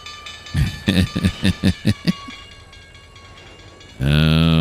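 Diesel locomotive reversing in the Trainz 2022 railway simulator: a string of evenly spaced rhythmic chugs or clanks, then a sudden loud sustained tonal drone near the end, with no talk.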